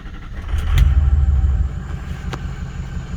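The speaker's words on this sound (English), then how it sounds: "So I'm going to start the truck." A Ford Excursion with a 6.0 Power Stroke diesel that has a miss starts up with a loud, deep rumble, then settles into a lower, uneven idle, close by with no talking.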